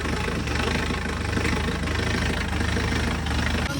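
A tractor engine runs steadily during testing, with a loud, continuous low idle rumble and a slight knocking pulse that persists throughout, with no voices.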